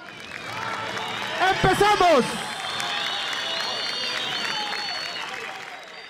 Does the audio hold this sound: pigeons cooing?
no